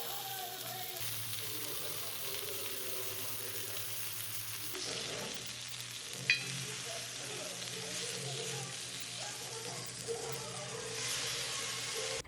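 Marinated fish fries on a dosa griddle sprinkled with curry leaves, a continuous moderate sizzle that shifts in texture partway through, with a couple of faint clinks.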